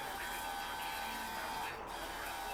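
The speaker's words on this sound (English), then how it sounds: "by the sounds of that, ladies and gentlemen, the battery in the sprayer is nearly kaput" A battery-powered garden sprayer on a nearly flat battery, running with a steady, strained electric whine and hum close by that dips briefly near the end.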